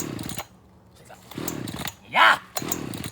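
A chainsaw being started and revved for cutting down a tree, its engine roaring in bursts between short pauses, with a loud high rev near the end and someone shouting over it.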